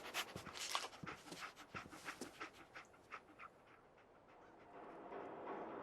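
Dogmeat, the dog companion in the Fallout 4 video game, pants in quick steady breaths at close range. The panting fades into a low background hum near the end.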